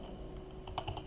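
Keys clack in a short burst of several quick strokes on a computer keyboard while a terminal command is typed, close and moderately quiet, with no talking.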